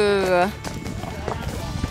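A horse clip-clops up a steep mountain trail in the Ariège, with several close hoof strikes on stony ground after a brief voiced sound at the start.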